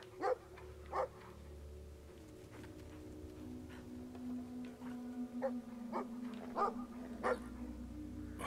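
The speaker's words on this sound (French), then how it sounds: "Donc là, il y a un chien." A dog barks in the video game Brothers: A Tale of Two Sons, giving a string of short barks and yips over a steady, low tonal game drone, moderately loud and alone.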